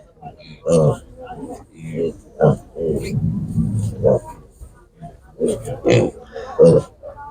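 Grunting piglets at a market in Nadvirna, Ukraine, heard in short bursts between stretches of a man's speech.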